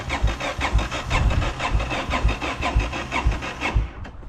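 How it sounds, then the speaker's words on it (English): A Honda GB500 motorcycle engine cranks over and over without catching, a steady rapid rhythmic churning of the starter close by, then it cuts off near the end. "let's see if we can get the bike to turn on."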